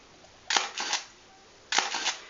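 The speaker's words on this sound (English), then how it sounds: "I'll show you the shutter going in the back." A Contax RTS II Quartz camera fires twice, each time a sharp, close shutter click followed by a short mechanical whir as the winder advances the film, with a brief quiet gap between the two cycles and no talking.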